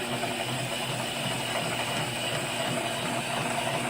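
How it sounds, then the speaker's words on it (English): A 90-volt DC motor drives a motorized welding positioner, giving a steady, continuous mechanical whir with a faint ratcheting, geared texture, held at an even level throughout with no talk. "It's a 90-volt motor. DC."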